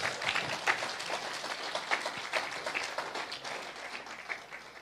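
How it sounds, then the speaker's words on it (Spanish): Church congregation applauding during a Spanish-language service in Utah, a steady moderate wash of many hands clapping through the whole moment, with brief bursts standing out. "Dale aplausos al Señor, amén."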